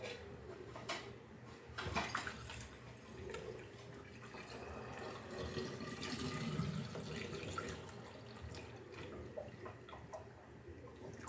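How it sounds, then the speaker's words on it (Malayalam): Gooseberry juice syrup is poured into a bottle as a soft, continuous liquid trickle at low volume, with a few faint clinks along the way. "നമുക്കൊരു ബോട്ടിലേക്ക് ഒഴിക്കാം"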